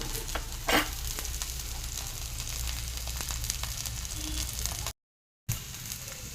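Masoor dal thalipeeth sizzles in oil on a pan, a continuous close frying hiss with a brief louder crackle early on and a short dropout near the end, no talking.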